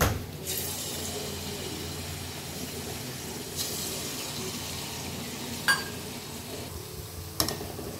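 Taler bora, palm fruit fritters, fry in hot oil with a continuous hissing bubble, broken by a few sharp clinks and bursts of louder spitting.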